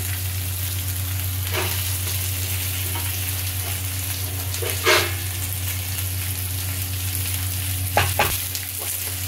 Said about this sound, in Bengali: দিয়ে এটা এবার নাড়বো